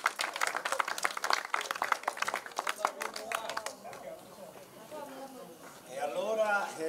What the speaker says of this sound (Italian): Un applauso a Giovanni Nardelli, autore della musica